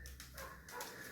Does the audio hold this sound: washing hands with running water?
no